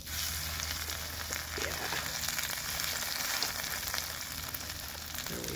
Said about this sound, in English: Alright, my oil looks good. Hopefully it's not too hot. We're gonna put our schnitzel in it.